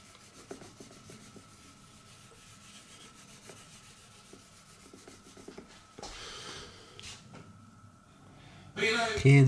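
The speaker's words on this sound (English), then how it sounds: "Just giving it a little wet and dry." Quiet, rhythmic rubbing strokes come from wet-and-dry sandpaper being worked over the lacquered body of a Gibson Les Paul Studio guitar, soft and close, with a louder scuffing burst toward the end.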